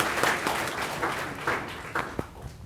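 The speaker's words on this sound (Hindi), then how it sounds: "ये तालियां उस जोश की हैं कि हम विषमपर परिस्थितियों से लड़ने के लिए तैयार हैं।" An audience at a tribute event in Karnal applauds in a dense wash of clapping, moderately distant and fading slightly, with a few sharper individual claps near the end.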